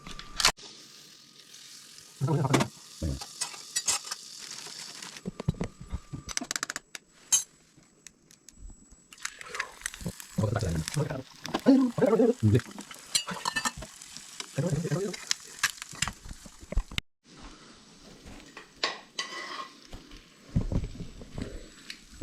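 A three-egg omelette sizzles in a pan while cooking outdoors, a soft frying hiss broken by scraping and stirring with a spatula, intermittent clinks and taps, with quiet stretches between.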